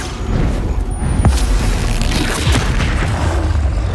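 Confringo fire spell explosions in Hogwarts Legacy during a goblin battle, a loud continuous rumble with repeated booming blasts and crackling impacts throughout.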